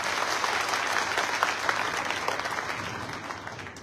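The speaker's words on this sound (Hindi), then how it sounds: "जरा जोरदार ताली बजाओ तोमर साहब के लिए।" Crowd at a political rally for a Bhim Army leader bursts into loud, sustained applause for Tomar Sahab, dense clapping filling the space for several seconds before easing slightly at the end.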